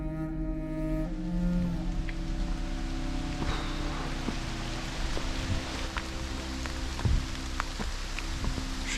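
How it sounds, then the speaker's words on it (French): Heavy, steady rain falls in a Slovenian mountain forest on the way to Velika Planina, a dense hiss of drops on leaves and ground with occasional louder nearby splats. "Au matin, la pluie est encore plus intense."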